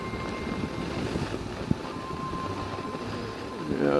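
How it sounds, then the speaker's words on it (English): Steady, loud wind buffeting and rumble while riding a Suzuki V-Strom motorcycle, with a low engine drone underneath and one short knock midway. "that's a lot of wind right there"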